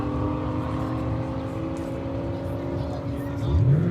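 A V6 Dodge Charger engine drones steadily nearby with a low, even tone, then rises into a revving climb at the end.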